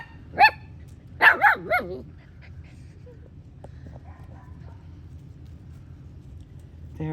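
Schnauzer puppies let out a few sharp, close barks and yips in a quick burst near the start, then go quiet over a low background hum while a person talks nearby.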